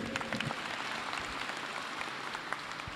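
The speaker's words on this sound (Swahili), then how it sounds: "Tumpigie Father Pedi makofi ingine kwa hiyo vision ambayo ametupatia" An audience at a church self-help group's annual general meeting claps steadily in a room, a continuous patter of many hands throughout.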